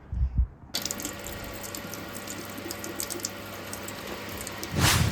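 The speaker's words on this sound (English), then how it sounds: "go rinse it out under some low pressure water" Low-pressure tap water runs steadily over a dirty K&N air filter being rinsed clean, a continuous hissing splash that starts abruptly after a brief handling noise and swells near the end.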